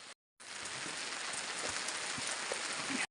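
Steady rain falls on a village in the Uttarakhand hills, a dense even hiss of drops on surfaces that runs near and constant with a brief break near the start and no talking.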